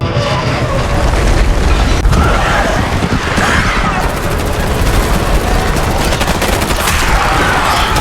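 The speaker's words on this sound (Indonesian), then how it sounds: "Joel menembak clickers yang mendekati Ellie" Rapid, loud gunfire with bursts and booms over a chaotic, noisy background, continuing throughout, as shots are fired at approaching infected clicker creatures in The Last of Us.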